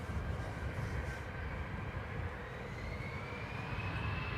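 A Eurowings airliner departing Dublin Airport, heard as a steady distant jet roar with a faintly rising whine, a continuous even rumble with no talk.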